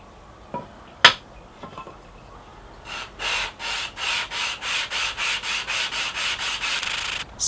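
Split wood strips for ukulele bass bracing are being sanded flat, starting with a few scattered taps and scrapes, then a steady run of about a dozen rhythmic back-and-forth rasping strokes, close and moderately loud.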